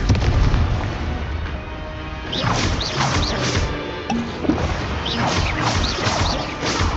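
Repeated Confringo spell explosions in Hogwarts Legacy, a run of loud crashing blasts and booms in quick succession over a busy rumbling game-battle background.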